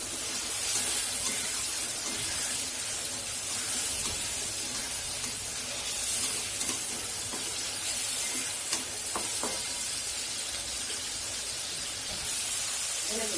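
Small potatoes fry and get stirred in a pan, giving a continuous hissing sizzle with scattered scraping and tapping of the utensil. The sound stays close and fairly even over the whole stretch.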